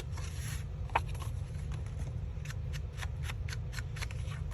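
Soft repeated dabbing and brushing of ink along the cut edge of a paper index card, a series of faint, short, close strokes in a quiet room over a steady low background hum.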